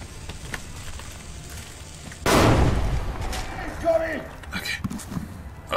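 Gunfire in the Metro 2033 video game, quiet scattered pops at first, then a sudden loud blast or burst that decays into crackling noise and more scattered shots, with a voice speaking over it.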